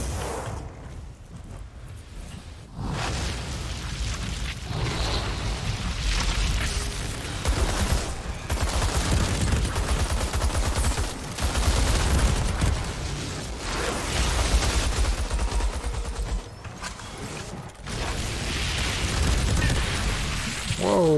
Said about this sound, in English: Stick with the LMG, it seems to do more.